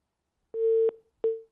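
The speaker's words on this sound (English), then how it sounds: "it seems that the phone call there has been cut off." A dial tone follows a cut-off phone call during a live broadcast interview, a steady clean tone broken by short clicks, fairly loud and alone with no talking.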